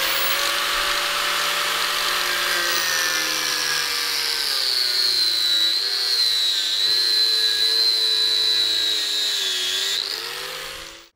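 A thin 1 mm cutting disc slices through a fuel line, giving a steady, loud high-pitched grinding whine that holds for about ten seconds before cutting off.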